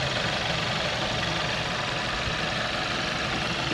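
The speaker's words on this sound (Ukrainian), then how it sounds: "мотор працює рівнесенько" A 2008 VW Golf Plus with a 1.4 TSI engine and automatic gearbox idles in a close, steady, even hum, with no voices.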